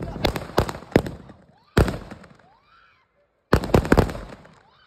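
Diwali firecrackers going off in an Indian village at night: three loud, close bursts with crackling tails, separated by rising whistles, and voices nearby.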